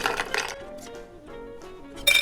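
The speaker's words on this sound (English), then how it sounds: "Double rocks glass. It says open pour with a gated finish. So we want some ice in there." Ice cubes drop into a double rocks glass for a rum cocktail, giving a few faint scattered clinks and one brighter glassy clink at the end.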